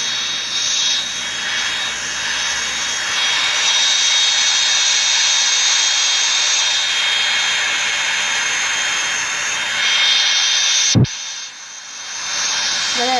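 A jet airplane engine in a flight simulator video game drones steadily with a loud, even roar. A sharp click cuts in near the end before the hum resumes.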